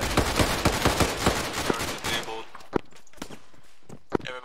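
Rapid bursts of gunfire in a military shooter game near an armored BTR vehicle, dense and continuous for the first two seconds, then a few sharp isolated shots spaced apart, with faint movement noise between.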